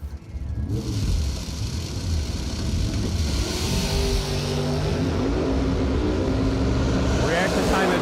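Drag racing cars launch off the line, a Camaro in the left lane, engines roaring loud and sustained, revving steadily throughout with a faint announcer voice beneath.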